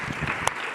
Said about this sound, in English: If we can give a quick round of applause.